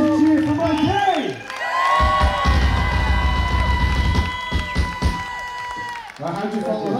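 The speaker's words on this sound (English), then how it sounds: "So, one massive cheer for Mikey!" A festival crowd cheers, whoops and applauds at a live outdoor music event, a loud sustained roar of clapping and shouting that swells and then eases, with a voice speaking over it at times.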